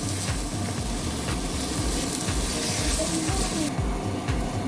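Garlic button mushrooms sizzle and fry in a pan with Thai sweet chili sauce, a loud steady crackle with scraping stirring strokes repeating throughout.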